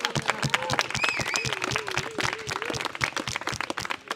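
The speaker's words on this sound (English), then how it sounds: "so let's applaud ourselves" An audience at a civic arts session applauds together, with dense, steady clapping throughout and a few brief voices rising over it.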